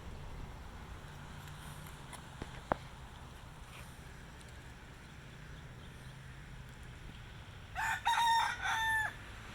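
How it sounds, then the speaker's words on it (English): Roosters crow repeatedly from a short distance on a rainy day on Kauai, several loud calls bunched near the end over steady rain-like background hiss, with one sharp click earlier. "No shortage of roosters and chickens on Kauai."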